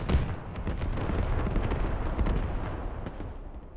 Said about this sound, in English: Good barrage here.